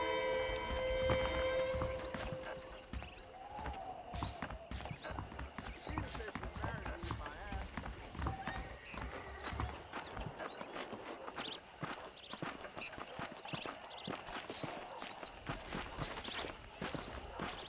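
Horse hooves clip-clop at a steady walking pace in Red Dead Redemption, with a brief whinny near the start. Voices talk over the hoofbeats throughout.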